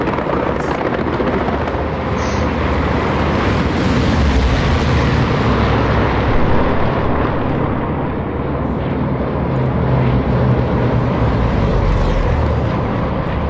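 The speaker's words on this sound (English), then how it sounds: "that's a plane. That's a there plane," Broadband engine roar of a plane flying over in the World War II shooter Hell Let Loose, loud and steady throughout with no talk.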